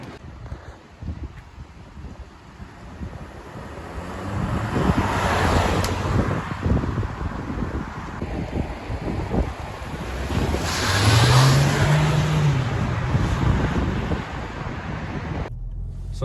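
A 2022 Volkswagen Tiguan, base spec with an automatic gearbox, driving on a road: steady tyre roar and wind noise from inside the cabin, swelling and easing, with a low engine hum rising around the twelfth second.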